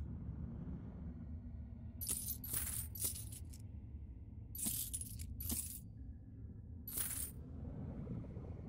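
Keys jangling when picked up in the video game Blood West, four or five short bright metallic jingles at irregular intervals over a low steady ambient rumble, no voices.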